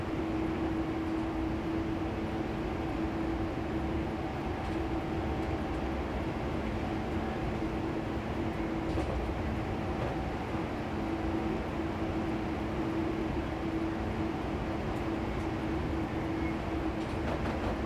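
A train in Train Simulator 2016 runs along the line from Kings Cross to Peterborough, passing stations such as Oakley Park and New Barnet, with a steady, continuous rumble and a sustained motor hum through the whole stretch and no talking.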